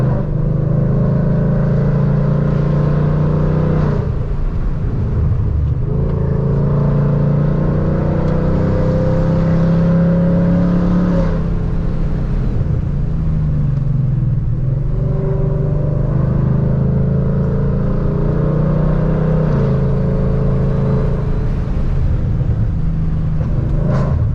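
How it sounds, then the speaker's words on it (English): A supercharged Whipple S650 Mustang engine drones and revs steadily on a winding mountain road, a loud continuous low rumble with rising and falling pulls throughout and a faint turbo whine mixed in. "Dude, I hear his turbo."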